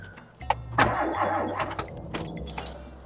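A VW Polo 86c Breadvan with a weak battery and a loose connection cranks its engine close by: a short, labored starter whir that fails to catch, with a few metallic clicks around it.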